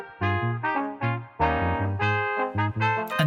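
A small ensemble plays a lively phrase of overlapping notes, with a roomy, spacious hall reverb tail behind them.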